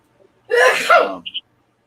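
A single loud sneeze bursts out at close range, followed by two quick faint high squeaks as it trails off.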